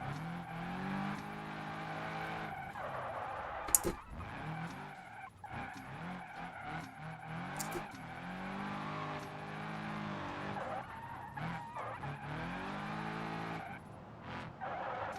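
Car drifting in a racing video game, engine revving and rising and falling through gears while tires squeal in long skids, loud and continuous with sharp transient bursts.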